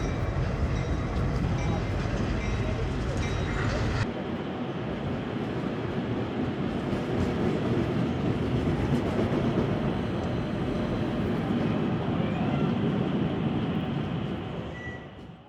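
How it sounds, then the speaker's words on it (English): A steady rumbling model train runs continuously on the rails, loud and close, with a shift in tone partway through before fading at the end. "Model trains have been chugging along in Canada for over a century."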